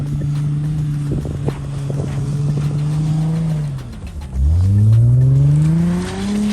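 An AWD Nissan with a VQ engine revs at full throttle on about three inches of snow. A loud, close engine drone holds, dips briefly, then surges into a sharp rising rev.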